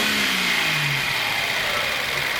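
A freshly tuned Z car engine revs near the listener, its pitch sliding up and down over a steady, loud mechanical hum.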